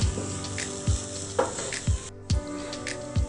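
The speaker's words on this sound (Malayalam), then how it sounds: "1/2 ടീസ്പൂൺ ഗരം മസാല ഇതും കൂടി ചേർത്തൊന്ന് ഒന്നും കൂടി ഇളക്കി കൊടുക്കാം." Coriander powder, turmeric and garam masala being stirred into a frying egg-and-bread mixture in a pan: a steady sizzle broken by several dull spoon knocks and scrapes at uneven intervals, with a brief drop-out near the end.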